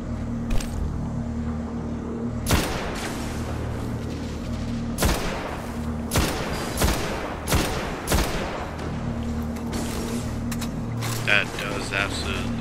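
A powerful gun in the video game Destiny fires in several heavy, booming bursts spaced across the stretch, over a steady background rumble of game ambience.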